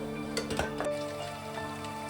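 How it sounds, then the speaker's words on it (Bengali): Gokul pitha frying in oil, a steady sizzle with a few clinks of a utensil against the pan early on, close and moderately loud with no talk. "এবার আমি আর যেগুলো আছে ওগুলোকে ভেজে নেব।"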